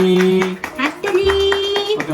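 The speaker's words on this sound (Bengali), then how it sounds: "সবাই হাততালি দাও হাততালি" A small group claps hands at a Bengali rice ceremony (annaprashan), with a few bursts of close claps under a loud voice and steady background music.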